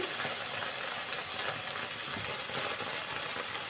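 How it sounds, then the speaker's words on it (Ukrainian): Chicken skewers frying in a pan, a loud, even hiss of hot oil that holds steady for a few seconds, close up and without speech. "І таким самим способом смажимо все м'ясо."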